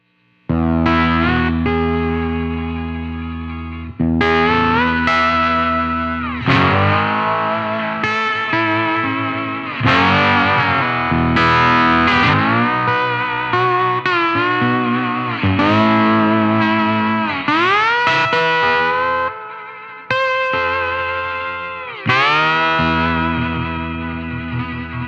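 Slide guitar with P90 pickups played through a Supro '64 Reverb tube amp set for distortion, heard alone: loud sustained chords and gliding slide notes in phrases, with clear pauses between them.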